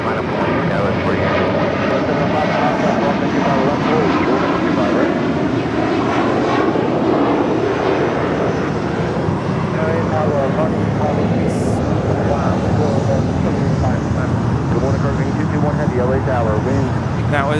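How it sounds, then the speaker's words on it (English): An American Airlines A321 jet departs from LAX, its engines giving a steady, loud roar throughout, with people talking over the noise. "That was American 307 departing with JFK on an A321"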